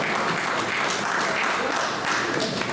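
An audience at a poetry contest applauds a participant, a steady, fairly close wash of many hands clapping that holds evenly through the moment with no voices over it.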